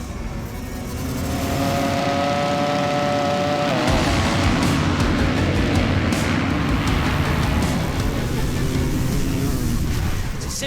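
A 500cc Yamaha two-stroke motocross bike idles and revs on the start line among a field of four-stroke bikes, the engines swelling into a loud, sustained roar after a couple of seconds, with crowd and commentary mixed in.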